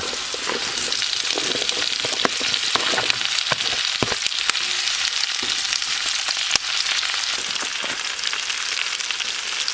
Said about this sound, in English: I'm going to throw the potatoes in.